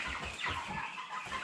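A large Cobb-500 broiler rooster, about forty days old, gives soft, low clucks in a quiet barn, a short rhythmic series of faint calls.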